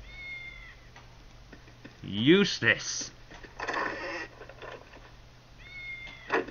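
Cats meowing in the video game Baldur's Gate, a few rising, whiny meows in the middle, close and fairly loud, with a voice speaking over part of it.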